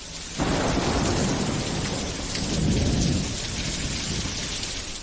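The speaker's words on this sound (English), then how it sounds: "Finally, it rained, and what a glorious rainfall it was." Heavy rainfall pours down in a dense, steady roar that starts abruptly and stays loud and close, with a low rumble of thunder swelling midway.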